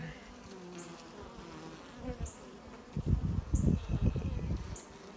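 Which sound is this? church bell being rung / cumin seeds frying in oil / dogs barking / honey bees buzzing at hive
honey bees buzzing at hive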